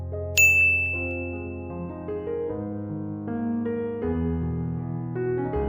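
A single bright notification ding rings out clearly at the start and fades, set over a soft, sustained orchestral music bed.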